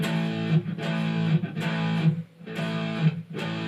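An electric guitar plays power chords through heavy distortion, several sustained strummed hits in a chugging riff with short gaps between them, loud and close with no talking.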